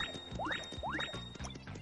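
Coin pickup jingles from Super Paper Mario, two quick rising chimes near the start with game music and effects continuing underneath, no talking.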